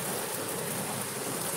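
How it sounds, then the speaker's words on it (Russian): Heavy rain pours down outside an apartment during a downpour that hides the horizon, a dense, steady hiss of falling water that stays loud and unbroken throughout, with no speech. "Все обложил дождем."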